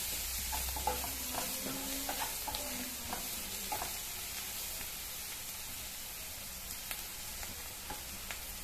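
Onions with turmeric fry in a pan for a cauliflower dish, making a steady soft sizzle and hiss close by, with a few light stirring knocks early on and a quieter, even frying sound afterward.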